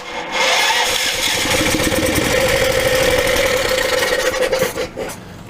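Small single-cylinder engine with a compression release set to 20 thousandths and its valve cover off, cranking briefly then catching and running loud and close with a steady rapid chug before sputtering near the end.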